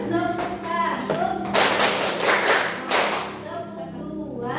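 Students in a classroom ice-breaking game clap together, giving a couple of loud broadband bursts of group clapping between a teacher's spoken cues.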